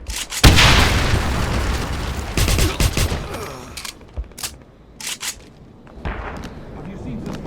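Grenade explosion and gunfire in Wolfenstein: The Black Sun, a loud blast followed by bursts of shots and sharp cracks, with soldiers shouting amid the fight.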